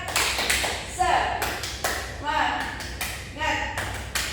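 A classroom group does a rhythmic spirit clap, quick sharp close bursts alternating with voices chanting in time.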